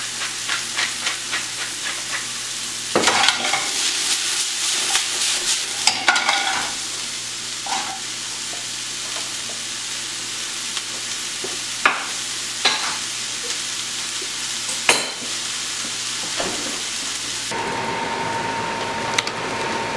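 Artichoke stuffing sautés in a pan with a steady hiss, while a spoon stirs and scrapes in bursts and knocks against the pan now and then, close by and without talk.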